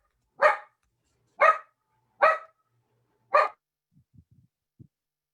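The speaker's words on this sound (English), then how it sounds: "My dog got excited on that one. He's like going nuts." An excited dog barks four times in loud, evenly spaced bursts close to the microphone, followed by a few faint soft noises after a pause.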